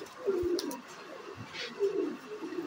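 Pigeons at a pigeon sale, including khaura, garra, kalpara and Saharanpuri cross birds, coo in two low, throaty rolling phrases, fairly close and moderately loud, with no talk over them.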